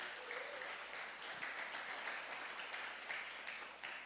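A church congregation applauds, a soft, distant wash of many hands clapping steadily for several seconds, low in level with room reverberation.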